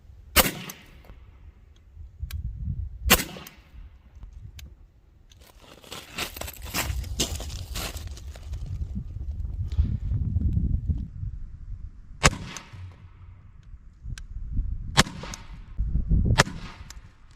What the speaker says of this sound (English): I'm gonna shoot alternating balls.